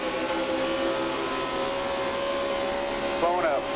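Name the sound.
NASCAR race car engine blowing up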